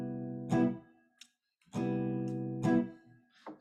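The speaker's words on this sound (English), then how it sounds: "the first rhythm we're used to seeing is what's known as the Charleston rhythm" A jazz guitar plays the Charleston rhythm: a few short, warm chord stabs, one held chord, then quick clipped hits, near and alone.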